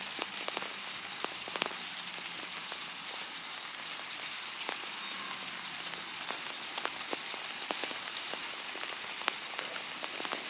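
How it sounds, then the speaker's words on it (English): Rain falls on a wooden deck and patters on a coat, a steady soft hiss dotted with sharp, irregular drop taps close by, with no voices. "we got a 1 minute recording of rain done"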